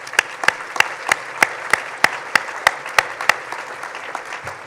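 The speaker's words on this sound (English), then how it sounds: "Can you please give everyone a round of applause" Sparse applause from a small audience at a government officials' event honoring immigrant-service supporters and volunteers, about a dozen distinct claps in a slow, steady rhythm, fairly close and moderately loud.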